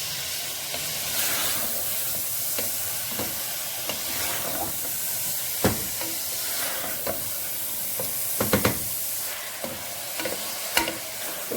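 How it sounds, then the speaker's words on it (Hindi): Mutton (gosht) for biryani roasts on a high flame, making a continuous sizzle and hiss with sharp spoon scrapes and clatters against the pot, most frequent toward the end. "तो गोश्त को भूनेंगे व्यूअर्स हम तकरीबन 4 से 5 मिनट तक अच्छे से।"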